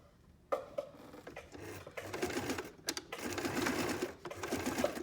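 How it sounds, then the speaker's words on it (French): A sewing machine stitches a needle case along a traced line, running in steady buzzing bursts with short pauses between runs, close and fairly quiet, with no talking. "je couds sur la ligne que j'ai tracée. La machine, elle glisse un peu."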